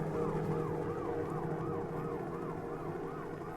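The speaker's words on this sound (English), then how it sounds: "Helicopter, fire engine, police car." A police car siren inside a played song, wailing in a regular rising and falling pattern over a bed of music, moderately loud and steady across the few seconds, with no speech.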